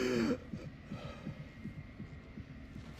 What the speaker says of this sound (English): I should not be able to hear your heartbeat